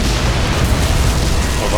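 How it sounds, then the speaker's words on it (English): A large explosion set off in the middle of an alien hive in Crysis 2 Remastered, a dense, sustained low rumble with boomy bursts filling the whole clip at high volume, with no clear separate blasts. "Alright, an explosion in the middle of a hive."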